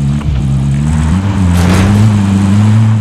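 A car is driven in the Call of Duty Warzone video game, a loud, steady engine drone with a shifting pitch, heard alone without voices.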